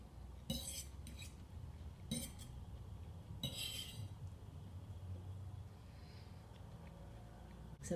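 Cutlery clinks against dishes in a few short bursts during a meal with olives, over a low room murmur, with no clear talk.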